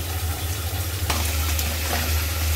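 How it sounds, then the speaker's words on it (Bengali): Catla fish pieces, rubbed with chili powder, salt and turmeric, frying in hot oil in a home kitchen, giving a steady close sizzle with a low rumble and a couple of brief clatters. "মাছ ভেজে নিলাম"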